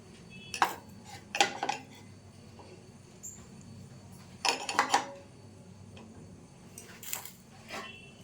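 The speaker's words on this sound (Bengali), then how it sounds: "তাওয়ার উপর একটা কড়াই বসিয়ে দিয়েছি। এর উপর আমি কাপগুলো দিয়ে দিচ্ছি।" Cups being set into a wok resting on a griddle: a few separate clinks and clatters of cookware, spaced apart with quiet gaps between them, close and fairly soft.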